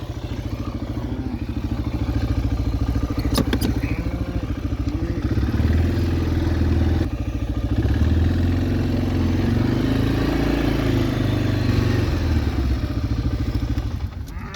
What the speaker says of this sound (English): let me get this four-wheeler back